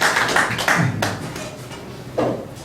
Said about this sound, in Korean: 그럼 큰 박수 맞아주시겠습니다